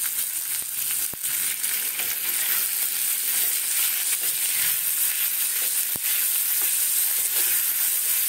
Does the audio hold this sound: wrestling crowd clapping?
no